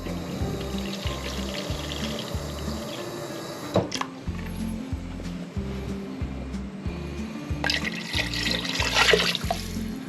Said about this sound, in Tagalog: at ating dagdagan ng konting tubig